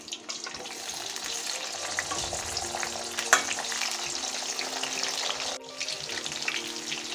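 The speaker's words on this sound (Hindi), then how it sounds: "अब कटहल का दूसरा लॉट फ्राई कर लेते हैं।" Jackfruit pieces deep frying in oil make a continuous, dense crackling sizzle at close range, with one brief sharp clink midway and a slight drop in level near the end.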